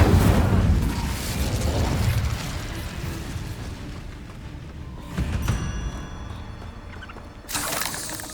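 The Incendio fire spell from Hogwarts Legacy bursts in two short, fiery whooshes a few seconds apart, each rising out of a quieter stretch of ambient game sound.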